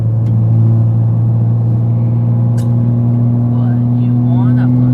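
A Toyota MK5 Supra engine drones steadily and loudly while driving a mountain road, holding a constant low hum with a slight pitch rise near the end; a voice talks over it.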